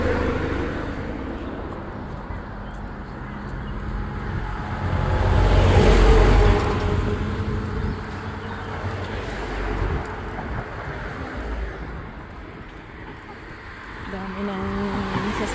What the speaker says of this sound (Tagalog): Dami ng sasakyan ngayon dito.